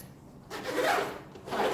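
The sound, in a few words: zip on Kathmandu Entrada backpack sleeve being zipped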